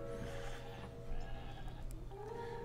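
A goat bleats in the video game Plants vs. Zombies Heroes, a short wavering cry heard over steady game music with no one talking.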